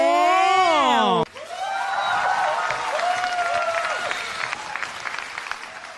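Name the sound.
audience applause welcoming tenor Kim Ho-joong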